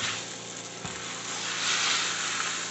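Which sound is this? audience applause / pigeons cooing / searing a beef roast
searing a beef roast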